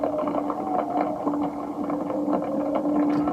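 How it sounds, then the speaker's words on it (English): A wind and rain atmosphere built for a film score forms a dense, steady wash of rushing noise. A low droning tone and soft fluttering pulses sit within it, and no one speaks. "The first one is a wind and rain atmosphere sound,"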